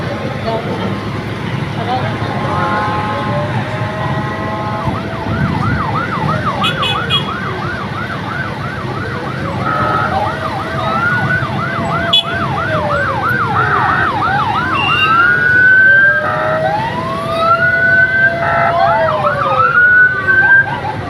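Several wailing fire engine sirens rise and fall continuously at a fire, overlapping one another with traffic rumble underneath and voices talking faintly in the background.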